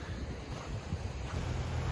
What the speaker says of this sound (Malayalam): ഇവിടെയൊക്കെ പുഴ പരന്നൊഴുകുന്നുണ്ട് കേട്ടോ